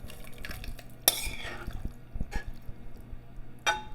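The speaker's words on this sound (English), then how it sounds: "So now we're pouring our casserole" Baked macaroni and cheese casserole slides and plops into a dish with a few wet sloshes and scraping clinks of a utensil, close by and moderately quiet, with no talking.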